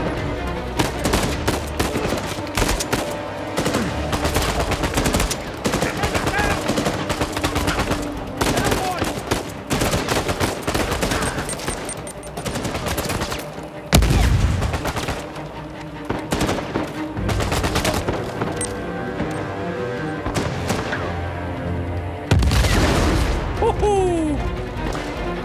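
Rapid bursts of gunfire in the video game Uncharted 4, loud and near, with machine-gun volleys, single shots and crashes running almost nonstop, layered over game music and effects.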